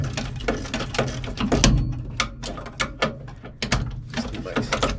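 A socket wrench with an extension works on a car's wheel nuts, giving a rapid series of metallic ratcheting clicks and clanks, close and fairly loud.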